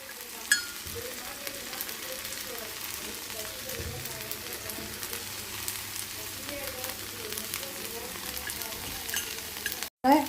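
A rava masala dosa fries in oil on a pan, giving a soft, continuous sizzle that stays low under a person talking throughout, with a brief clatter near the end.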